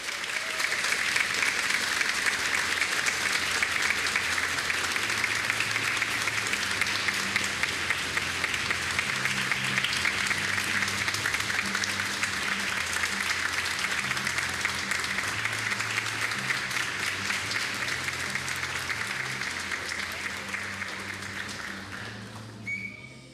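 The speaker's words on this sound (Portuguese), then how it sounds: "uma salva de palmas a todos os homenageados desta noite" Sustained audience applause for honorees at an evening tribute ceremony for teachers, loud and steady for over twenty seconds, with some whistling and low hum of the hall, fading slightly at the end.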